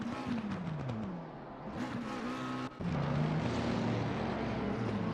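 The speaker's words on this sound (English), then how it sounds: "I heard a bunch of revving going on then" A GT3 race car engine revs in Assetto Corsa Competizione at Spa, its pitch sweeping up and down through repeated rises and drops, then settling into a loud, sustained high-revving drone, with no voices.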